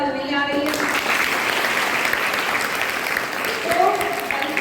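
A room of schoolgirls from classes 6 to 8 at a Gandhi-themed school quiz claps steadily in a dense, even burst of applause after a brief voice at the start.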